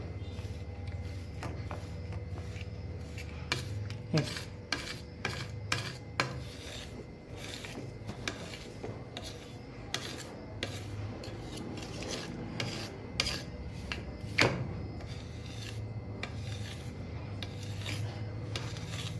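A bowl presses and smooths barfi mixture across a plate, making steady rasping scrapes with clinks of metal on metal throughout, close and fairly soft.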